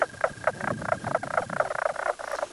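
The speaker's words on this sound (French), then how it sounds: "Il s'agit du couassement de l'énigmatique grenouille du Nord." Mink frogs croak from a northern pond, a rapid, regular series of hollow, knocking calls repeating about four times a second, fairly close and clear over faint background noise.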